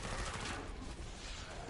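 Short burst of MP5 submachine gun fire in the game Killing Floor 2, a rapid crackling volley at close range that fades over under two seconds, with no talk.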